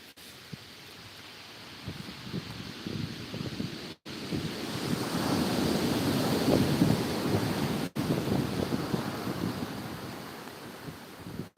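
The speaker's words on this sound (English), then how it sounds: "Can you hear them waves? It sounds impressive." Sea waves wash onto the shore during a fishing session, a broad rolling surge that builds and recedes under gusty wind buffeting the microphone, with a couple of brief dropouts and no speech.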